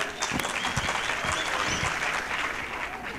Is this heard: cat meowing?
no